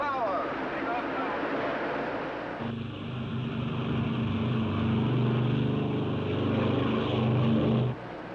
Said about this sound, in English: Ready for takeoff. Takeoff power. Takeoff now.